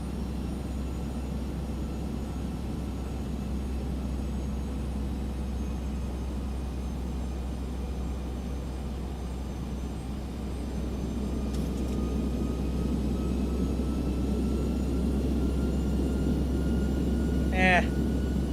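Steady loud jet engine roar of a Boeing 737-900ER during a go-around in a flight simulator, a constant low drone that swells slightly partway through, with a faint tonal whistle near the end.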